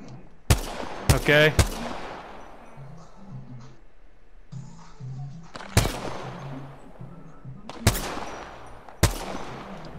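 Loud, sharp gunshots from Apex Legends gameplay ring out in spaced single bursts, with a quick cluster of rapid shots early on, over low background game ambience while a voice says a brief word.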